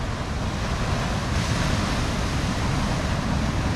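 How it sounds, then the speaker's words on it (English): Ocean surf rolls in along the New South Wales Central Coast at sunrise, a steady, loud wash of breaking waves with constant broadband rush and some wind buffeting the microphone, no voices. "I love watching the waves come in and out"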